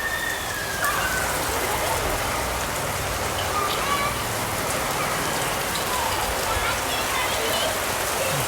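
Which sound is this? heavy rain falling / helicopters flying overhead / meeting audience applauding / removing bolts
heavy rain falling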